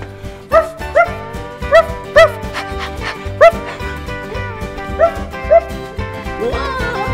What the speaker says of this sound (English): this is where cow dogs stay